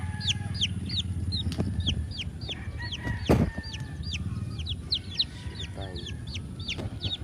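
Chickens cluck and chirp steadily on a Philippine poultry farm raising YLH dark and pongkan breeds, with many birds close by, repeated calls overlapping a low farm hum and a brief louder burst midway.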